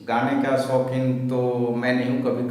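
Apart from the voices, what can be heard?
None of the usual background noises is heard.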